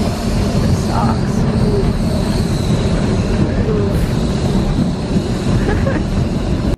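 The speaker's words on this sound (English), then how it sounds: "So this particular tram ride," A tram ride in Australia fills the space with a constant low rumble and rattle of the moving car, loud and steady from start to finish, with faint voices in the background.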